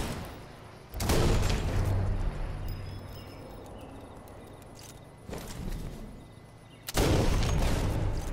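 Machine gun fire in the video game Sniper Elite 4 comes as three loud bursts of rapid shots, separated by quieter stretches of low ambient rumble.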